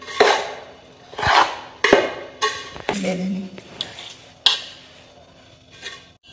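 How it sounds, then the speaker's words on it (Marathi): Rava laddu mixture with cardamom powder being stirred in a pan, a spoon scraping and knocking against the metal in several distinct clinks and scrapes at close range, with quiet pauses between strokes. "सगळं हे मिक्स करून घ्यायचं।"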